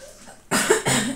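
Two sharp, harsh coughs close to the mic after a quiet moment, the second following shortly after the first.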